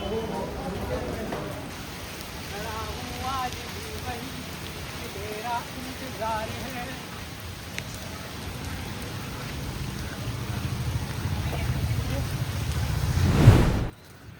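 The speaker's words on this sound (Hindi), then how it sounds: "यहाँ से बाहर निकले तो यहाँ बारिश हो रही है" Steady rain falls outdoors on the Delhi University North Campus, a continuous broadband hiss that carries on under a person talking and swells slightly louder near the end.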